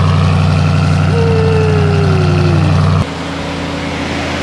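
A deep, steady idle from a Hellcat V8 in a Ram TRX truck, with a heavy low rumble, loud and close; the tone drops abruptly near the end as the revs settle.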